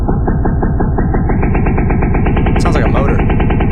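A synthesizer's low end is pitch-shifted into a rapid, buzzing, motor-like pulse, loud and distorted, its pitch sliding upward, with a brief bright crackle near the end.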